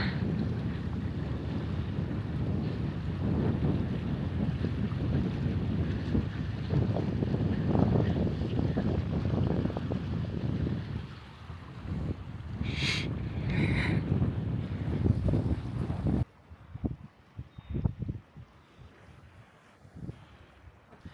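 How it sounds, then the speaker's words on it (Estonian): Strong wind blows across a high-water seashore on Saaremaa in winter, roaring steadily into the microphone with gusts, then dropping suddenly to quieter, choppy wind noise near the end. "Siukene tuulekahin on."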